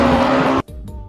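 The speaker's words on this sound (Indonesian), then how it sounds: "kita mendapatkan mobil balap sedan teman-teman" Toy racing sedan car sound, a loud, close electronic engine-and-screech effect with a steady tone that cuts off abruptly, followed by faint brief clicks.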